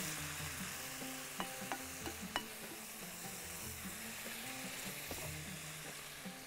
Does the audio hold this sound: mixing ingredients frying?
yes